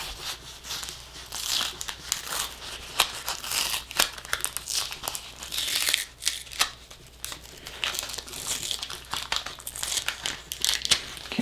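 Heat transfer vinyl being peeled off, giving continuous crackling and crinkling with rapid sticky tearing bursts that rise and fall in close, fairly loud waves throughout.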